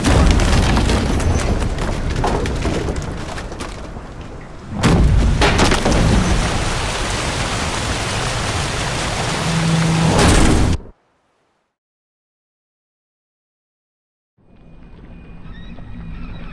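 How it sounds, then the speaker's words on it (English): Storm at sea in The Witcher 3: Hearts of Stone, a loud rumbling roar of wind and waves with heavy booming surges, then a sudden cut to silence before the rough noise returns. "Didn't bargain for no storm."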